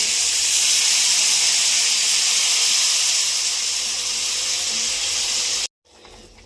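Water poured into a hot pan for a fish curry with mustard paste, raw banana and potato sets off a loud, steady steam hiss that lasts several seconds and then cuts off abruptly.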